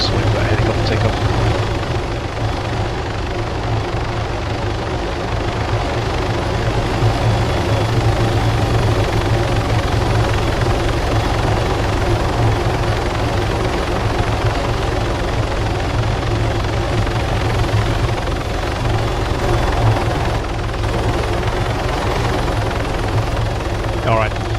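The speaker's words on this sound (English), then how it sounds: "So we've got a helicopter take off." A video-game helicopter takes off at an airport, its rotor thudding steadily and loudly with a continuous engine drone that holds constant throughout.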